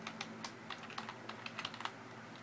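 Fingers type text on a computer keyboard in a steady run of quick, light key clicks, close by and fairly quiet, with no talk.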